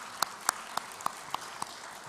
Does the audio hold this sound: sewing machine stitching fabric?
no